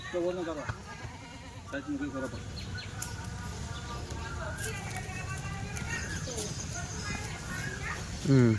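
Kathiawari goats bleat repeatedly amid a noisy outdoor scene, wavering calls rising over a steady background din, with people talking nearby.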